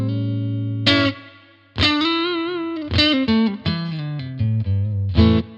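An Ibanez electric guitar with Seymour Duncan pickups plays through a distorted tone, sustained chords followed by short, punchy riffs and bent notes, loud and close with no talking.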